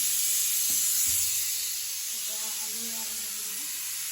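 Fish frying in hot oil, a bright continuous sizzle and hiss close by, with a short stretch of voiced talk partway through.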